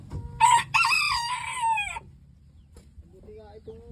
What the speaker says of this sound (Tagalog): Brahma chicken naman namin.